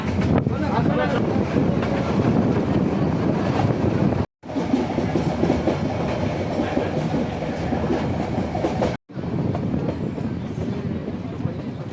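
A train near Junagadh, Gujarat, rumbles steadily along the tracks with a loud, continuous roar and rattling, briefly cut off twice.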